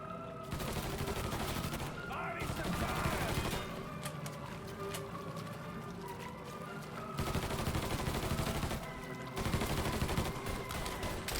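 Dense gunfire from a Mafia III battle rattles almost continuously for about eleven seconds, with sustained bursts and a few short lulls, loud and close, under occasional shouted voices.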